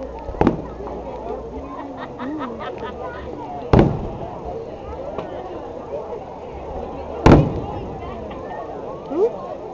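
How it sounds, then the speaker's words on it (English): Fireworks bursting at a 2008 outdoor fireworks show in Herndon, with three sharp loud booms spaced a few seconds apart over steady crowd chatter and talking. "Oh, fireworks."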